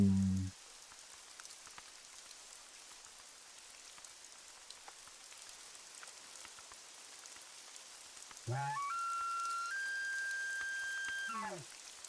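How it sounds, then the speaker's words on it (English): Light, steady rain pattering on leaves in theHunter: Call of the Wild, a soft continuous hiss with scattered drips, joined near the end by a brief sustained tonal whistle. "Just the last of the rain pitter-pattering off the leaves."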